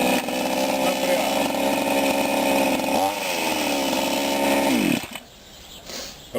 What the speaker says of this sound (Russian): Работает пила очень прекрасно.